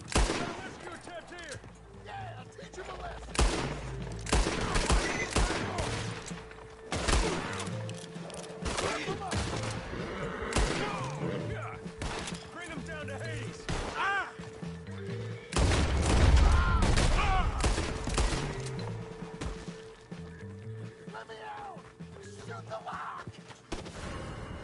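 Gunshots in the western video game Red Dead Redemption 2 crack out in repeated sharp bursts, some close together like a volley, over a steady game soundscape, with a heavy boom near the middle.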